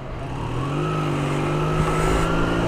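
Motorbike engine droning steadily while being ridden in freezing cold, a close, continuous hum with a slight rise in pitch toward the end and no speech.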